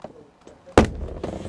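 A plastic door panel clip popping loose as the door card is pulled from a 2015 Subaru Forester, a single sharp snap followed by faint rustling and a second softer knock.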